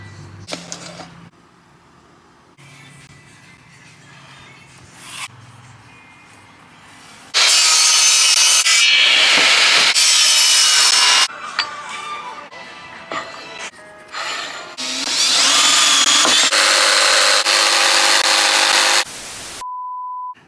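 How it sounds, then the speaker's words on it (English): A handheld jigsaw cuts through wood for car trunk panels, its buzzing blade coming in loud, sustained bursts separated by pauses with handling noises. "I feel like I can cut a pretty straight line with the jigsaw by hand"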